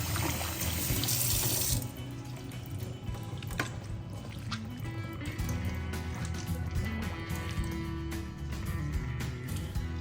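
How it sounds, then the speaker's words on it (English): Tap water runs steadily into a kitchen sink as raw beef is rinsed of baking soda, with a louder gush at first settling into a continuous splashing flow under the hand. "Rinsing the baking soda off the beef"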